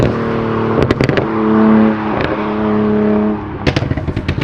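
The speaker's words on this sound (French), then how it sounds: "Il y a encore la caisse qui passe. Petit Porsche Cayenne." A Porsche Cayenne drives past on the Mont Ventoux road, its engine hum swelling and fading as it passes close by, with wind buffeting and rustling before and after.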